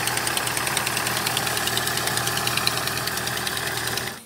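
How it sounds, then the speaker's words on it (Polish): Rapid, even metallic tapping from the cylinder head of an idling engine with excessive valve clearance, likely a failed hydraulic lifter, a steady fast tick over a running hum, close and continuous before cutting off. "Gdy mamy ten luz za duży, słychać charakterystyczne stukanie w silniku dobiegające z okolic głowicy wałka rozrządu."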